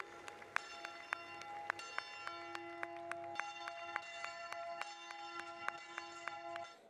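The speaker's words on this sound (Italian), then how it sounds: "la salutiamo con il suono delle campane della chiesa di" Church bells of the church of Al-Khosh ringing in a steady, regular peal, bright repeated strikes with long sustained tones ringing on, loud and alone until fading at the end.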